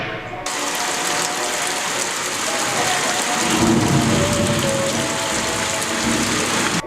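Stage rain sound effect for a theatre production: steady, dense hiss of rain-like patter running the whole time, with a rattling, mechanical texture and faint tonal hum underneath.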